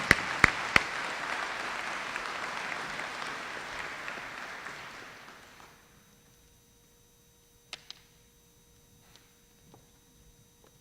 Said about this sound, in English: I think that's worthy of applause for those of us that went to Beauty and the Beast.